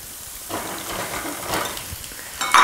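Crookneck and zucchini squash sizzle in a little olive oil in a saute pan. The hiss is steady and moderately loud and swells at about half a second, and a sharper clatter comes near the end.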